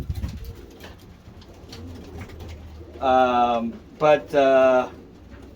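Racing pigeons coo close by: after a stretch of low murmuring and a brief spoken word, several loud, throaty coos follow in quick succession near the end.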